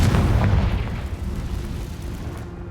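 A Confringo fire-blast spell explodes in the video game Hogwarts Legacy, a loud sustained booming roar with heavy low rumble that slowly fades over a few seconds.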